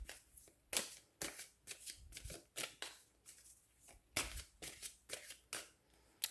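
Tarot cards are shuffled by hand, giving a close, soft series of irregular slapping and riffling flicks that repeat rapidly with no talking.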